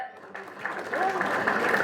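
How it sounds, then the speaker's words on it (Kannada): Audience applause at the trailer launch event for the Kannada film Talwar, swelling from quiet to a steady broadband clatter beneath a person talking. "ಸೂಪರ್ ಸೂಪರ್ ಜೋರಾದ ಚಪ್ಪಾಳೆ"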